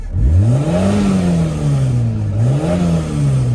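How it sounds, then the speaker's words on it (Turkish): A Doğan SLX car exhaust revs up loudly, its deep engine note rising and falling in a couple of throttle blips, with no talking. "Şöyle bir şurada duralım da bir egzoz dinletisi yapalım."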